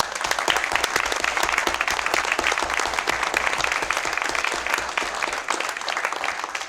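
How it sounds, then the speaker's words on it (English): An audience at a Board of Education meeting applauds: loud, dense clapping from many hands, close and sustained without pause, with no talking over it. "So another round of applause to you, Eric, and your family."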